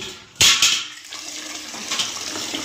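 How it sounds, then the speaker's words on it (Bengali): Hot and cold water is poured into a bucket for washing, starting with a sudden splash and then settling into a steady rushing pour, close and fairly loud. "হাফ বালতি এই গরম জল দেবো, হাফ বালতি ঠান্ডা জল দিয়ে পাইল করে ধোবে"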